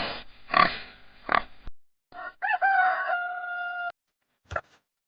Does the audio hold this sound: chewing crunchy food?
no